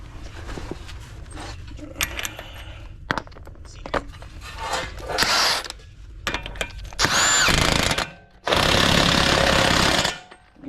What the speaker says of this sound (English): Get your axle bolt tight.